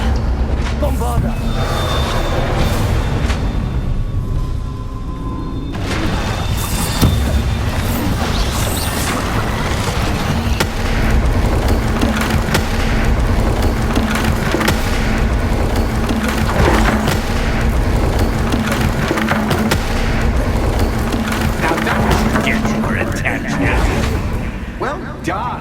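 Bombarda blasting-spell explosions in Hogwarts Legacy crash and boom loudly over a continuous, busy roar of combat noise, with repeated heavy impacts layered throughout.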